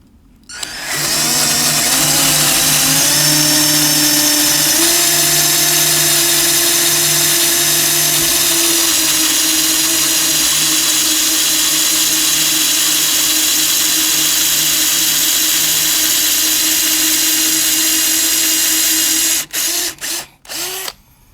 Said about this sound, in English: This will be the best one to watch the counterbore action.